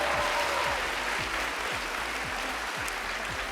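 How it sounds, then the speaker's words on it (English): Sustained applause from a theatre audience at a live stage show, a dense steady wash of many hands clapping throughout, fairly loud and close with no talk over it. "Please give them a round of applause."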